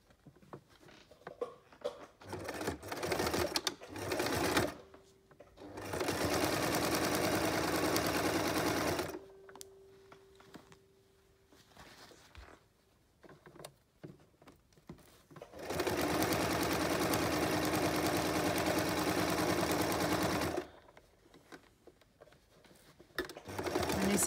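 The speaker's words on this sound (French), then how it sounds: "je vais venir coudre en surpiquant sur toute la longueur" A domestic sewing machine topstitches bias binding along an apron edge in two long steady runs, each lasting several seconds, separated by quiet pauses and short stop-start bursts, heard close and alone.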